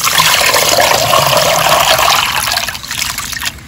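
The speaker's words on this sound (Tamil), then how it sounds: "இப்போ வந்துங்க அரிசிக்கு வந்து தண்ணி ஊற்றிடலாங்க" Water pours steadily over ration rice in a pot or bowl to soak it, a loud continuous splashing trickle that tails off slightly toward the end, with no talking.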